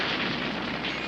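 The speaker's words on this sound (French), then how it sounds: "On dirait une explosion." A cartoon explosion bursts loudly and briefly in a dense, roaring blast, with no voices.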